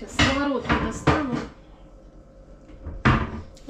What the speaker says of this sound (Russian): Сейчас сковородку достану.